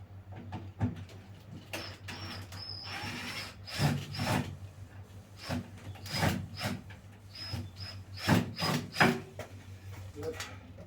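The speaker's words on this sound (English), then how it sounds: "I'm going to take off the leg off of it with my drill." A power drill works to remove a leg from a wooden piece outdoors in a garden, giving repeated short bursts of whirring and knocking with brief pauses between, moderately close.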